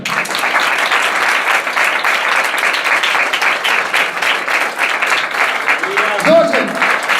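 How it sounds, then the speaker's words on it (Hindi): A church congregation gives loud, sustained applause for the worship music and choir, a dense, even roar of clapping with a brief voice near the end. "खूबसूरत वर्शिप, खूबसूरत म्यूजिक, खूबसूरत क्वायर के लिए जोरदार तालियां"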